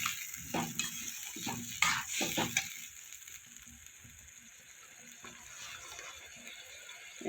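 Spices for a fish curry with maan kochu (giant taro) are sautéed in a pan, giving soft sizzling with a few stirring scrapes and clinks near the start before fading to a quiet, steady fry.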